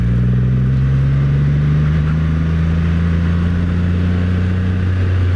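A Triumph Rocket 3 motorcycle cruising gently along a twisty road, its big engine a steady, loud low drone that rises slightly in pitch, mixed with constant wind rush and no talking.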